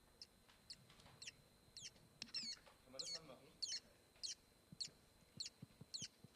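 Faint, quick chirping calls repeat in short bursts over a quiet background, with a few soft knocks and brief murmurs mixed in.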